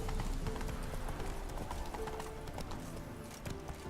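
Roach, a horse in the Witcher 3 video game, gallops with rapid rhythmic hoofbeats clopping continuously, loud and close throughout.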